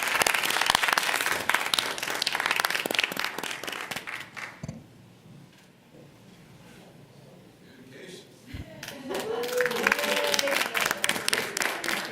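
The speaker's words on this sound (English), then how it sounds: "Let's give them a big round of applause." A room at a regular board meeting breaks into applause for a recognized team, clapping dying down to quiet murmurs midway before a second round of lively clapping and voices picks up.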